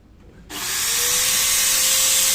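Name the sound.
power drill running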